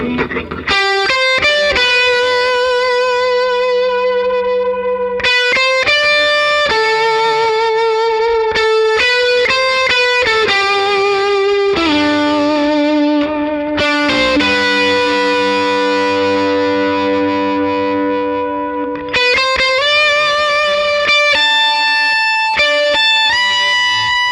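A loud distorted electric guitar through a Lovepedal Amp Eleven Gold amp plays a sustained melodic lead, each note ringing out with echoing delay and spacious reverb.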